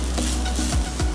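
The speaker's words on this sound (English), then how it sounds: "Keep on stir frying it till it is light brown." Onion and grated coconut stir fried in a pan for Goan chicken xacuti, a close steady sizzle with a few spatula scrapes and stirs.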